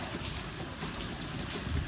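Steady rain pours down, a dense continuous patter on surfaces with no voices.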